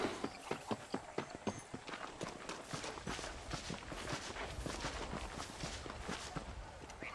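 Horse hooves clip-clop steadily in the video game Red Dead Redemption, a brisk, even rhythm of sharp hoof strikes close by over a low rumble of ambient noise, with no voices.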